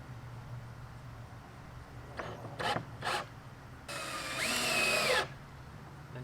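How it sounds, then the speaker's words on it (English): A power drill driving deck screws into wood outdoors, a few short bursts followed by a longer, louder whirring run that rises in pitch, close by with a faint background hum. "Throw 1 screw in to hold it in place."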